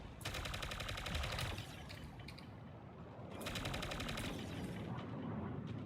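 The Berserker 16 gun firing in a video game, with two long, loud automatic bursts of rapid shots separated by a short pause, close and continuous over game ambience.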